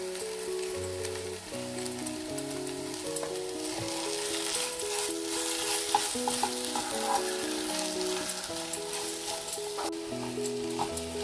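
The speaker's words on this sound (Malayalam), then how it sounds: "നമ്മുടെ ഈ വറുത്ത് വെച്ച കൊഞ്ചും ഈ മസാലകളും എല്ലാം കൂടെ നന്നായിട്ടൊന്ന് വഴറ്റി" Fried prawns with garam masala and curry leaves are sautéed and stirred in a pan, with a steady sizzle and repeated scraping strokes running throughout, close and fairly loud.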